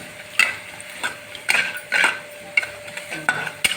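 Spiced rice is stirred in a pan with a spoon, a series of distinct scraping strokes roughly every half second, close and fairly loud over a faint sizzle.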